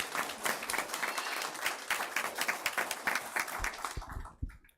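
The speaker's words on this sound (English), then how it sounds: "Let's give her a round of applause." Applause from the audience at a school district governing board meeting fills the room with dense, steady clapping for about four seconds, then quickly dies away.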